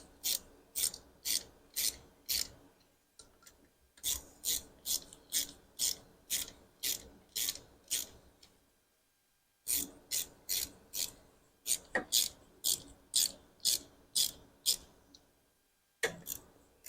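Repeated ratchet clicks in quick bursts, several strokes per run with short pauses between, close and crisp over a faint background, tightening clutch bolts on a Harley-Davidson Softail.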